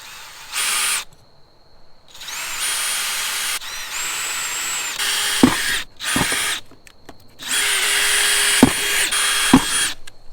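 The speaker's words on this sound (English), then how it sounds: "I'm gonna finish drilling the hole with the bracket removed" Cordless power drill boring holes for personal watercraft mounting brackets, several loud whirring bursts of a few seconds each separated by short pauses, close up with no talk.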